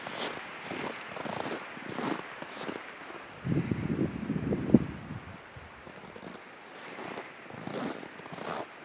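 Gusty wind buffets the microphone outdoors on a woodland trail at about zero degrees, rising and falling in low rumbling bursts, with a stronger gust midway and soft rustling between.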